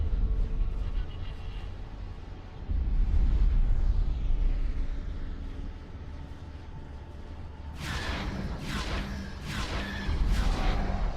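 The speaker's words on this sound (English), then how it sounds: "Explosion imminent. Confirmed." Space combat explosions in X4 Star Wars Interworlds, a rumbling deep blast swelling around three seconds, then a cluster of sharper crackling bursts near the end over a constant low background drone.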